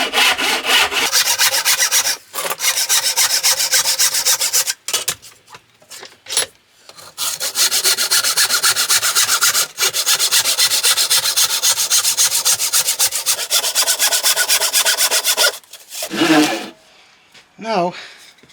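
A workshop piece of wood is hand-sanded smooth in long, rhythmic scraping strokes, loud and close, with a few brief pauses and some clatter near the end.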